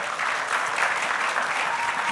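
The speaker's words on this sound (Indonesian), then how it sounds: "Berikan tepuk tangan buat mereka yuk saudara." An audience at a church panel discussion applauds the speakers, a dense, steady burst of clapping heard close and continuous throughout.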